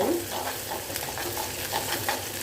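Sambar onions and curry leaves sauté in oil for a brinjal and lima bean kara kuzhambu, a dense close sizzle with light stirring scrapes, no voices heard.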